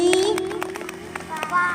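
Scattered claps from primary school children at a Friday morning school assembly, a few sharp hand slaps rising under a voice that carries through the clip.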